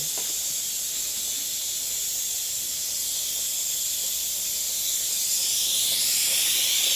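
A pressure cooker hisses steadily while a dish cooks, a loud continuous high steam jet that holds for the whole stretch and grows a little louder toward the end, with no talking.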